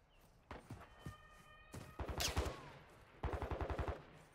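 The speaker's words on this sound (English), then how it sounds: "I swear I'm getting sniped at." Sniper and other gunfire in a Call of Duty DMZ match: several sharp, fairly distant shots spaced apart, then a louder burst of rapid reports and another quick volley near the end, with no talk.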